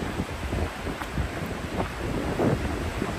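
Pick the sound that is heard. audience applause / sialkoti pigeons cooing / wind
wind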